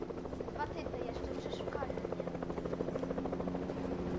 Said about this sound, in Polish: O nie, słyszę Helkę.